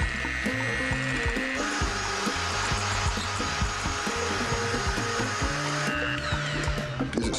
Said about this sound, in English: I've got some egg whites here. Okay. I'm going to whisk these up.